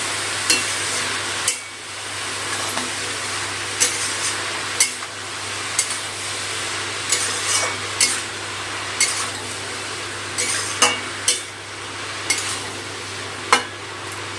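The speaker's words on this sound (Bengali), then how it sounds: "নুন হলুদটা মিশিয়ে নেবো লাউয়ের মধ্যে" Bottle gourd with salt and turmeric stirred in a pan over raised gas flame: a soft continuous sizzle with regular sharp scrapes and taps of the spoon against the pan every second or so, close up, no talking.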